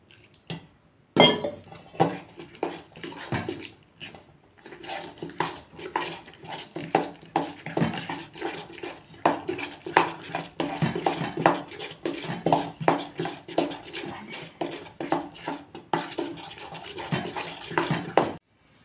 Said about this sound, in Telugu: ఇలా స్పూన్తో కలుపుకోవాలి, లూజుగా కలుపుకోవాలి